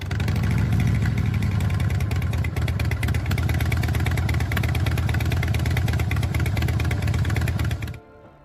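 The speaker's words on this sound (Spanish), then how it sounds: "este es el sonido patentado del escape de Harley" A Harley-Davidson V-twin motorcycle exhaust idles close by with a loud, steady, lumpy throb, then cuts off abruptly near the end.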